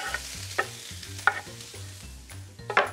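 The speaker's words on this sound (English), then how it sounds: "Pan's all heated up, ready to sizzle" An onion sizzles steadily in a hot pan, with a few sharp clinks and scrapes of utensils and a low hum underneath; no one speaks.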